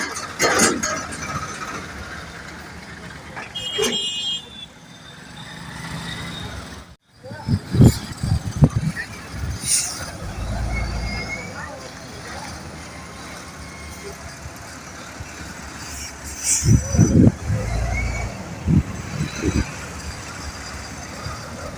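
Cars and trucks pass along a road at a narrow bridge in Bihar, with engine rumbles swelling and fading several times amid outdoor background noise, while people talk nearby.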